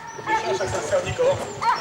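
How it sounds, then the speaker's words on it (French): Hunting hounds bark repeatedly from middle distance during a deer hunt in the French countryside, with several yelps over steady outdoor background and people talking nearby. "Les chiens sont passés, madame."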